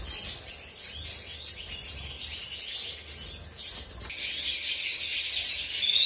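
Green mottled and brown canaries chirp and trill in bright, continuous song, growing louder and busier toward the end, with no one speaking.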